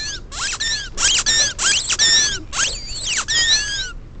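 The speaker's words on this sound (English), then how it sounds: "Oh, here's a squeaky rat." A Dollar Tree Halloween squeaky rat toy is squeezed about ten times in a quick, irregular series of sharp, bright squeaks, close and loud with no voices.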